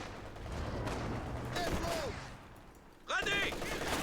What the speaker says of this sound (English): MG34 does suppress these conscripts.